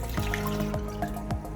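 Water pours into a cooking pot with a close, bubbling gurgle that rises in pitch as the pot fills, brief and steady with no talk.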